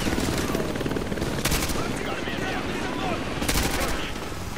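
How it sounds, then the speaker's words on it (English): Call of Duty Modern Warfare 2 Remastered campaign battle with an enemy helicopter, dense, continuous gunfire and bursts of automatic fire over a rumbling rotor wash, loud and chaotic throughout, with voices shouting amid the din. "Enemy helicopter! Get down!"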